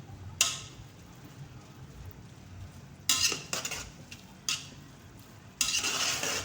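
Spoon or ladle stirring parboiled rice mixed with jaggery in a pot, producing intermittent scraping bursts between quieter stretches, close and moderately loud with no talking.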